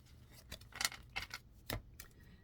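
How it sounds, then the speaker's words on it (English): Tarot cards shuffled by hand, heard as a few quiet, papery, crisp bursts spaced irregularly over a couple of seconds, with no voices. "Let me shuffle these"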